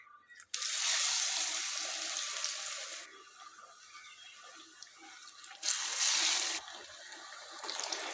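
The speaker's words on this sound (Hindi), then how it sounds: "तो आइए इन्हें फ्राई करते हैं।" Potato and chickpea tikkis dropped into hot oil, giving a broad hissing sizzle that swells and fades in loud stretches, with quieter crackling between, close and without talk.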